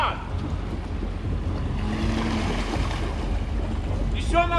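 A Jeep Rubicon, Gelandewagen or Pajero Sport engine labours steadily in deep mud, a sustained low drone with wind buffeting the microphone. People shout nearby and a brief tonal sound appears at the end.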